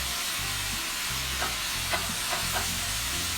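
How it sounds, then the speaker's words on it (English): Garlic, onions and sausage sautéing in avocado oil over medium-high heat, a dense constant hiss of frying with a few light scrapes of a utensil in the pan, no voices. "Before the garlic gets any color on it, we can add our onions to the pan and our sausage."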